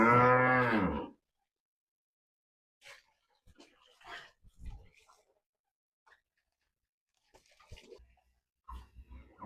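A Simmental cow lets out one loud, drawn-out moo at the start inside a cattle pen, followed by quiet scattered knocks and shuffling sounds.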